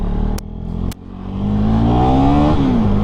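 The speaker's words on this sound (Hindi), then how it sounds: "ये जो इंजन है 249 सीसी का liquid cooled single cylinder engine है" A KTM Duke 250 with a 249cc liquid-cooled single-cylinder engine drones loudly and close while riding, with two sharp clicks early on, then the pitch climbs steadily as it accelerates, dipping briefly with a gear change near the end.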